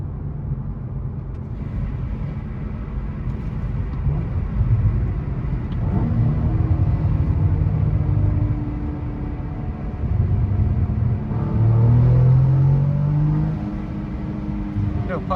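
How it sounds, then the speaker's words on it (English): Cadillac CT4-V Blackwing engine revving inside an underpass, a low rumbling rev that rises and falls twice with some rise in pitch, heard from inside the cabin with speech at times. "I think I revved it to slightly above 6K, so it didn't do it."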